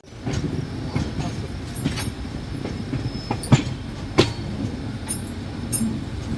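Passenger train running nonstop between Bhubaneswar and Puri, heard as a steady rolling rumble with wheel clicks and a few sharp clacks over the rails, close and continuous.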